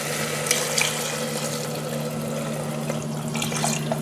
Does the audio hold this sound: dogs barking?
no